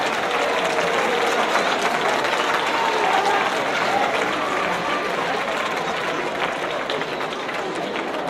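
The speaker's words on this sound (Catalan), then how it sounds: "Un fort aplaudiment, sisplau." Sustained crowd applause at the 30th Calella giants gathering in 2012, a dense, loud wash of many hands clapping steadily throughout, with crowd noise mixed in.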